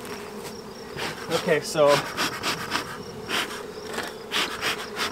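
Honey bees buzz in an open hive during work on a queenless colony with a laying worker, a steady insect hum under brief close talk and some handling noise.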